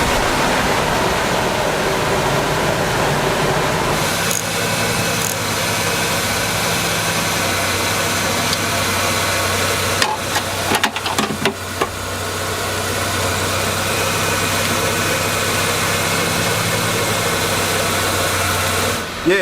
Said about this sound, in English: We're gonna start this thing up.